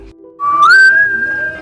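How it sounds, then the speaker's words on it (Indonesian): A special whistle used as an emergency communication code gives one loud, clear note that rises in pitch and then holds steady for about a second, heard alone and close. "melatih penggunaan siulan khusus sebagai bentuk kode komunikasi untuk digunakan dalam kondisi darurat"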